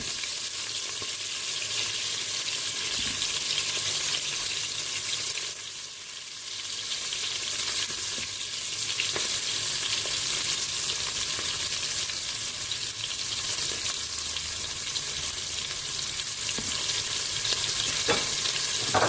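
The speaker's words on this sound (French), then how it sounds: "À colorer, je vais ajouter mon oignon coupé en morceaux." Onion pieces fry in a Cookeo multicooker pot, a steady, close sizzle and crackle that continues throughout, briefly dipping at one point as if stirred, with no talking.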